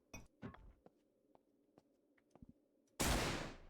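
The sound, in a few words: shotgun firing in Aneurism IV, a video game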